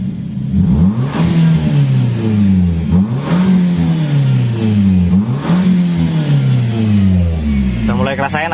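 A Nissan X-Trail engine revs up and falls back several times as the gas pedal is pressed, the pitch climbing and dropping in repeated waves, loud and close.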